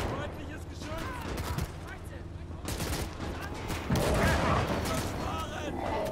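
Battle in the World War II game Gates of Hell: Ostfront, with rattling gunfire bursts and heavier booming shots from a StuG assault gun, dense and continuous, with a voice talking over it at times.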